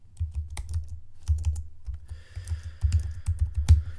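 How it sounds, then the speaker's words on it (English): Typing on a computer keyboard whose P key is faulty and must be struck hard: a close, steady run of clacking keystrokes with several notably heavier hits, alone with no talk. "the P key on my keyboard doesn't work, so every time I write, I have to keep hitting it harder for that P"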